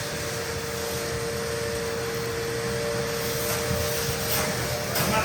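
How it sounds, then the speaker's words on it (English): Two vacuum cleaners run together while a plumber rips up a client's floor, a loud continuous whooshing roar with a steady whine, slightly rising toward the end. "We've got double the vacuum power here."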